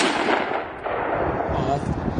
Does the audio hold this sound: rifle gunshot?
yes